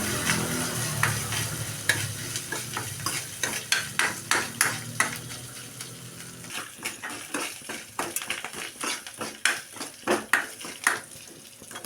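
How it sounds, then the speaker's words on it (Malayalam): Grated coconut and curry leaves fry in a pan for a jackfruit-seed white curry, a steady sizzle broken by repeated sharp scrapes and clinks of a spoon stirring against the metal, close and fairly loud with no talking. "നമുക്ക് തേങ്ങ കറിവേപ്പിലിട്ട് കൊടുക്കാം"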